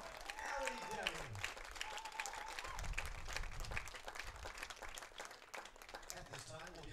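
Crowd at a college softball ballpark applauding a senior player, scattered clapping and cheering, fairly distant, under a public-address announcer's voice and ambient chatter.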